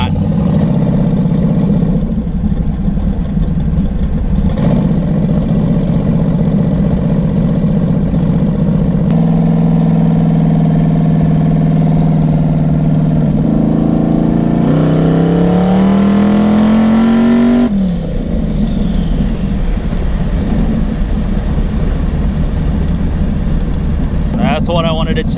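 A race car engine drones loudly throughout a test drive, its pitch holding steady, then climbing as the car accelerates through gears, with a person talking over the noise.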